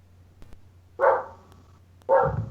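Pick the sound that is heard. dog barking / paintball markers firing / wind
dog barking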